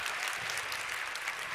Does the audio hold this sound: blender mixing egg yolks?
no